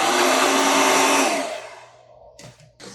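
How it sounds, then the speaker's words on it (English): A handheld blow dryer roars loudly while drying a layer of paint on a gel printing plate, then switches off and fades, followed by a couple of brief clatters. "with the blow dryer"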